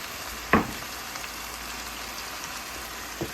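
Tomato sauce and spicy sauce being mixed together in a hot pan, giving a steady close sizzle broken by two sharp knocks of a utensil against the pan.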